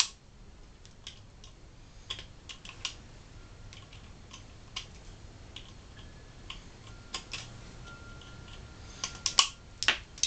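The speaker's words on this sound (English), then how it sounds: "I'm just going to take the needle nose pliers, try and yank it out." Small plastic clicks and ticks as needle-nose pliers grip and pull a part out of a Nerf Stormfire blaster, scattered sharp taps close by that grow louder and quicker near the end.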